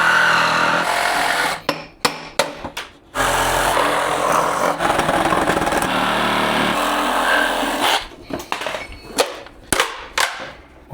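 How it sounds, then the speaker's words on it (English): A power saw cuts an S&B cold air intake in half in loud, sustained bursts, with short choppy cuts and pauses toward the end. "Let's cut this thing in half"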